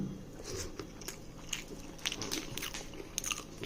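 Chewing and biting sounds from someone eating a meal of fried brinjal (eggplant) with rice, curd and leafy chutney, with close soft crunches and smacking bites repeating irregularly throughout.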